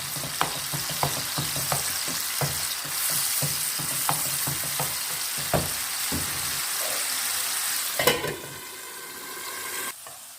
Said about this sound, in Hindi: अब इसको अच्छी तरह से मैं रोस्ट करूँगी